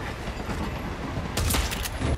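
A gunshot in the Hitman 3 video game appears as a short burst of sharp cracks near the end, over steady ambient game noise.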